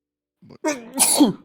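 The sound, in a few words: sneeze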